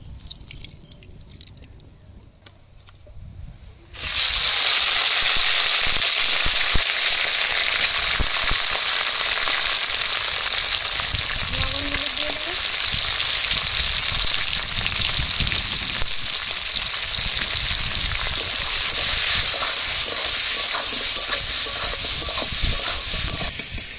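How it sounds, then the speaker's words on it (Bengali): Prawns hit hot mustard oil in a wok and burst into a loud, continuous sizzle that holds steady for the rest of the clip after a few quiet seconds of handling. "এবার কড়াইতে সরিষার তেল দিয়ে চিংড়ি মাছগুলো হালকা ভেজে তুলে নেব।"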